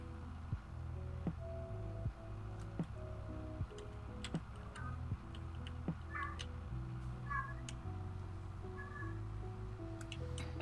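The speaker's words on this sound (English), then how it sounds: "if you hear a cat screaming, as usual, it's just my cat walking around because he's not getting attention right now" A house cat meows and yowls several times at a distance, faint and intermittent over low steady background hum and soft ticking from a farming-simulator game.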